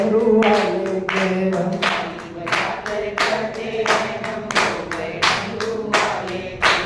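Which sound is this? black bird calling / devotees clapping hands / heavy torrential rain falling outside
devotees clapping hands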